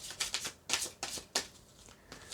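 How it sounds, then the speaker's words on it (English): Tarot cards are shuffled by hand in fast, papery riffles and flutters, several short bursts close by and fairly quiet. "That was my bad shuffling."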